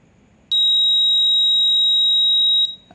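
An electronic buzzer on a small circuit with an LED sounds a single loud, steady high-pitched tone lasting about two seconds before cutting off, with faint background noise before and after.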